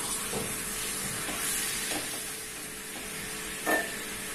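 Raw chicken being stirred in an ALPXEL frypan, a steady sizzle and hiss of frying with occasional scraping strokes of the spoon against the pan, close and continuous.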